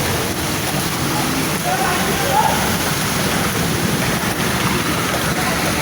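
Heavy rain falls over Chittagong city on a wet morning, a steady, dense hiss of downpour that holds evenly throughout without letup.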